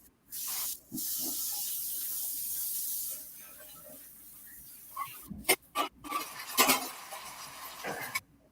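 Seasoned food hitting a hot pan, a loud hiss up front that fades, then scattered pops and crackles of sizzling close by.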